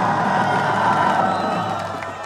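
Crowd at a political rally cheering and applauding for a visiting lawmaker, a dense, steady roar of voices with whoops and claps that holds loud throughout and eases slightly at the end.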